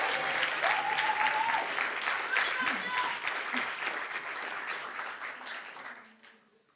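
Warm applause from an audience at an IAE Aix eloquence contest as prize winners are called up, many hands clapping steadily with a few voices mixed in, then tapering and fading away at the end.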